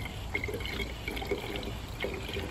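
Water pumped through an MSR Guardian filter runs into a bottle as a close, steady liquid trickle with small splashy gurgles and drips.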